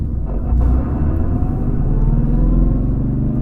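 A 1990 Porsche 964 air-cooled 911 heard from inside while driving, its engine giving a steady, close, low rumbling drone with a throaty pulse and no talking.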